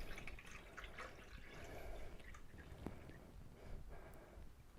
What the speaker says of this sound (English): So I'm going to fill this to the maximum capacity.